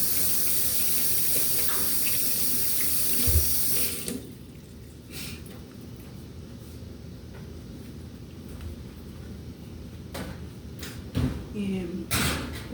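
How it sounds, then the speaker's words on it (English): Water from a kitchen tap runs steadily while hands are rinsed under it, then shuts off after about four seconds, leaving quiet room tone with a few light clinks and knocks. "let me rinse my hands."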